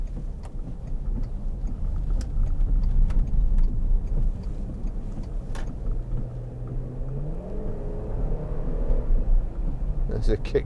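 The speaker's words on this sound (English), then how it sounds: "There's a kick down." A 2003 Volkswagen Touareg 3.2 V6 Sport on kick down, its engine note rising in a steady rumbling climb over road noise inside the cabin, with a rising tone toward the end; no talk over it.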